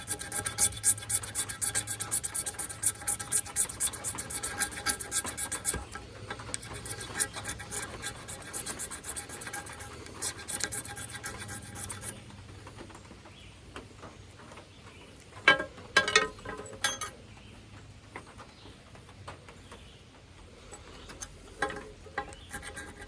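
A knife scrapes a magnesium block from a Coghlan's Fire in a Box fire starter kit. Dense, rapid rasping strokes fill the first half, then give way to sparser, intermittent scratches and quiet gaps.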